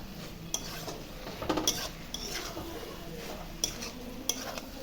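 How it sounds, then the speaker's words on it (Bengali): Fried soybean chunks and potato with spices being stir-fried, soft scraping and occasional metallic clinks of a spoon against the pan over a faint background sizzle. "আমি সব উপকরণ মিশিয়ে ভালো করে একটু কষাবো"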